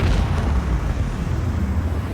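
Continuous heavy booming barrage of spaceship macro cannon fire in a video game, loud and dense, with deep rumbling blasts overlapping throughout and no pauses.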